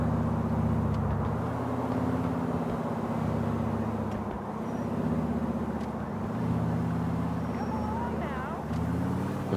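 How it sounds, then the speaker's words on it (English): Steady road traffic and engine drone on a busy highway in GTA 4, heard during a Florida Highway Patrol police patrol in a 2015 Dodge Charger, with a continuous low rumble and a voice talking over it. "A bunch of traffic up here."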